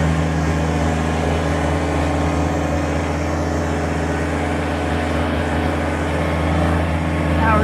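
Steady engine drone of a 2020 Kubota BX23S four-wheel-drive tractor loader backhoe, a constant harmonic hum held at even loudness throughout, close and continuous.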